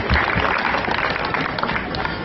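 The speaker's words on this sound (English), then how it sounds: "Come on, a round of applause for Shafan." An audience at a Twitter meetup event in Sri Lanka breaks into loud, dense applause, many hands clapping together in a sustained, close wash of sound.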